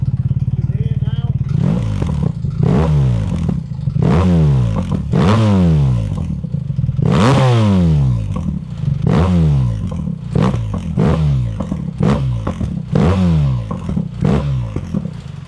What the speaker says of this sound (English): Straight away you can hear that it's a much beefier note without the valve getting in the way.